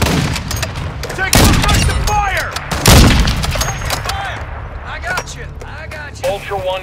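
Gunfire in Call of Duty Warzone on Ashika Island, with sharp bursts and heavy booming shots rising over steady battle noise while voices talk throughout.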